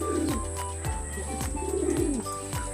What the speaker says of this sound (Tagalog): Ayun na, baba na siya mga kalapatids.